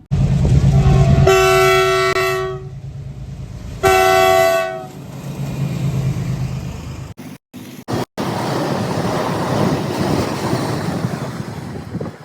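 A train passing a level crossing sounds two loud horn blasts, each about a second long with a short gap between them, followed by the rolling rumble of the train going by close at hand.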